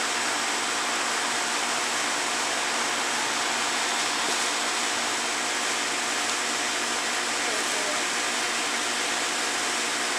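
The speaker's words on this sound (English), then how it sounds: "Put a little more water on here." Water sprayed onto a wild mustang horse, a continuous loud hissing rush of spray that stays steady and close throughout, with no talking.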